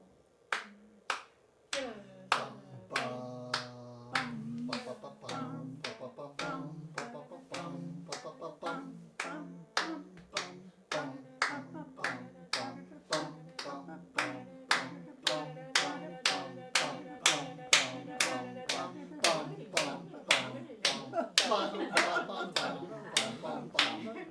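One woman claps sharp, evenly spaced beats while a group sings along during a rehearsal. The claps come fast and keep a steady pulse throughout, and the voices rise beneath them.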